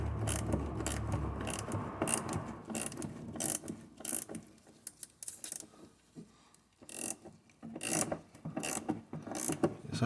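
A rusted fuel tank strap bolt on a Saab 9-3 is worked loose, giving a steady run of close, loud ratchet clicks and metallic mechanism noise that pauses briefly midway and then resumes.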